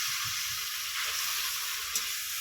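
A spiced paste of ground cashew, poppy seed, melon seed and mustard hits a hot pan for a tengra fish dish, giving a steady, close sizzling hiss that holds evenly throughout, with faint low clatter beneath and no talking.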